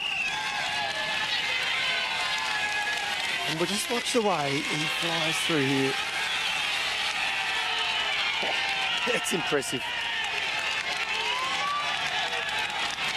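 A roadside crowd cheers and shouts as a Giro d'Italia time-trial cyclist rides past. The cheering is spread and fairly distant, heard under continuous commentary with engine noise in the background.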